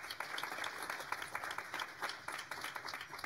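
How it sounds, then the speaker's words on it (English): An audience applauds panelists from a New York women's justice project at a live event, with steady, moderately faint clapping from many hands that continues evenly throughout. "Please join me in giving them a round of applause."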